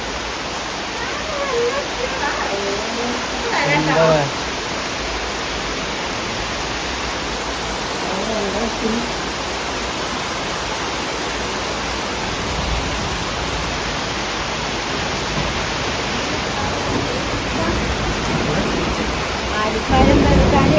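Heavy rain pouring steadily as a broad, loud, unbroken wash of noise across the whole stretch, with brief talk and laughter from people nearby breaking through now and then.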